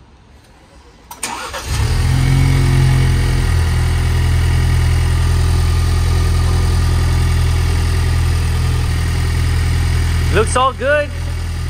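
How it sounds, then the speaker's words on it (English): A Ford Bronco engine cranks and catches after a second, then settles into a loud, steady low idle close by for about nine seconds, with a brief spoken remark near the end. "we're going to start the car."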